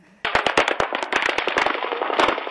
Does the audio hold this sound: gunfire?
yes